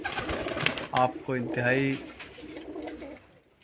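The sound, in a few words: flying pigeons cooing on a rooftop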